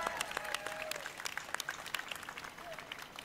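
Audience applause at the EA Play E3 2019 press conference, a steady wash of many hands clapping at a moderate distance, with a person's voice talking over it.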